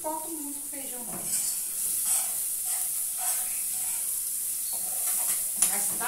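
Garlic and onion frying in a pan for a simple home lunch, a close, continuous sizzle and hiss with bursts of spattering, and a faint voice in the background at times.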